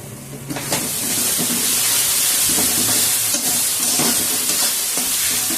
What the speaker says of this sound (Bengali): এরপরে এই পেস্টটা এখানে দিয়ে দেওয়া হবে এবং একটু নেড়ে দেওয়া হবে